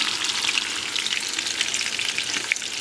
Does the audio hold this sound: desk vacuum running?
no